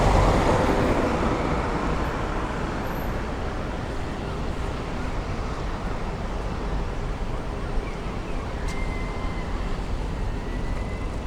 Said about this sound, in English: there's cars and vans going into the entrance of the tunnel